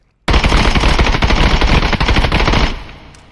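Sustained fully automatic 5.56x45 rifle fire pours rounds into an armored boss in the Contractors Showdown video game, a loud, dense, continuous rattle lasting nearly two and a half seconds before cutting off and ringing away.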